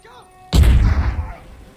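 A big explosion in the Uncharted 4 video game goes off as one sudden, loud boom, then a heavy rumbling tail fades over about a second after a quiet stretch.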